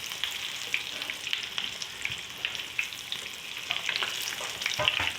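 Beef kebabs frying in a pan after being flipped, a dense continuous crackling sizzle with small pops and occasional stirring noises, fairly close and steady throughout.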